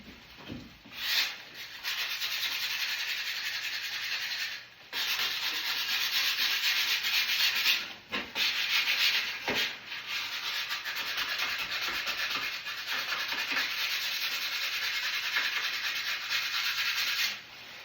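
Hand sanding of a coating on a wall made to blend into wood, heard as long, steady, close rasping strokes broken by brief pauses between passes.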